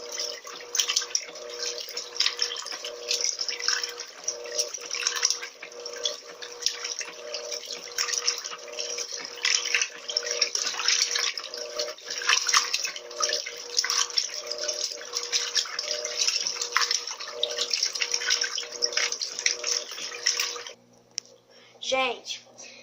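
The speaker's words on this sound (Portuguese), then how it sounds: "agora a máquina quase terminando de jogar água fora" An LT12F washing machine pumps out its water in a steady rushing, splashing stream for about twenty seconds, then the flow cuts off near the end, and a voice is heard briefly.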